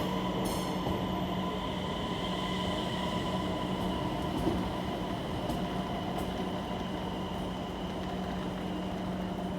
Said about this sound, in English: The next morning I boarded this pink train from Copenhagen Central Station to the airport.